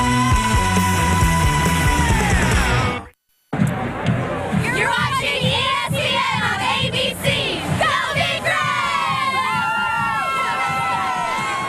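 A stadium crowd cheers at a Nebraska vs Colorado college football game at Folsom Field: loud music gives way after a brief cut to dense roaring, shouting and whooping from the stands, sustained and busy throughout.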